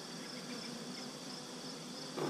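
Honey bees crowding a hive frame during an inspection give a continuous, even buzzing drone, soft and close, with a brief louder rustle right at the end.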